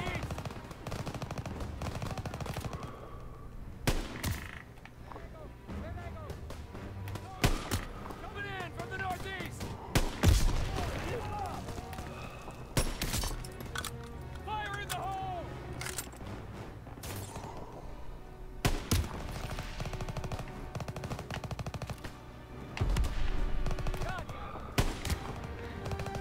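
Machine gun fire from an MG in the video game Call of Duty: WWII battle: repeated sharp shots and rattling bursts throughout, mixed with shouted voices and combat noise.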